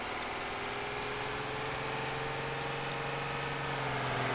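A fire truck driven in a Roblox game gives off a steady, droning engine hum with a slowly shifting pitch, continuous and moderately loud with no talking.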